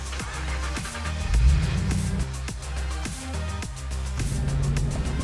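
A Ford Falcon GTHO 'Holy Grail' being driven, its engine droning steadily with rising and falling pitch as it pulls, heard from inside the car, loud and continuous, no talk.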